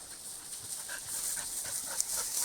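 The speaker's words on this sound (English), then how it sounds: "This is Vida, this is Vana. And so those dogs will be just like these two right here." Two Norwegian Elkhound dogs panting close by, quick soft breaths with a few thin whimpers mixed in, fairly quiet with no talking.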